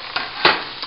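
Mushrooms, zucchini, onions, red pepper and garlic sizzling in a non-stick skillet, a steady bright sizzle broken by a few scraping stirs with a metal utensil, one louder than the rest.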